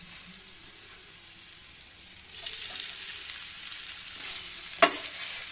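Mashed potato goes into a hot frying pan with red chili and coriander powder. A quiet sizzle swells into a louder, steady hiss partway through, and a single sharp clack of a utensil sounds near the end.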